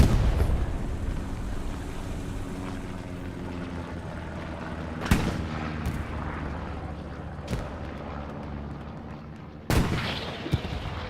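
Greyhound armored car trading fire in the game Hell Let Loose, with several sharp, loud gunshot blasts spaced irregularly over a rumbling engine and battlefield din.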